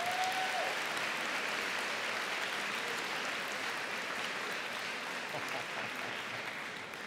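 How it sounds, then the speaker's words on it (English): Steady applause from the audience at a high school senior convocation fills an indoor hall, a dense, even clapping that holds for several seconds and eases slightly toward the end, with a brief voice near the start. "let's give a round of applause for our superintendent, Mrs. Whelan."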